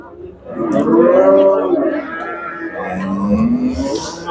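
Cattle at the Shahrisabz livestock market, a loud, close drawn-out moo followed by a second lower, longer moo, with faint market bustle behind.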